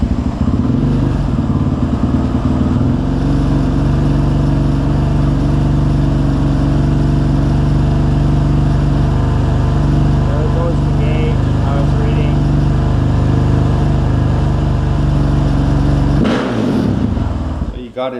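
A big bore single-cylinder thumper motorcycle engine runs steadily at a loud, close idle with a deep pulsing throb, then revs briefly near the end.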